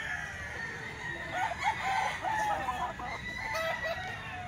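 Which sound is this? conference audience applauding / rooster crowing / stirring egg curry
rooster crowing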